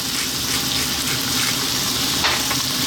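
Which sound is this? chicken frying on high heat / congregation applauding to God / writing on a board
chicken frying on high heat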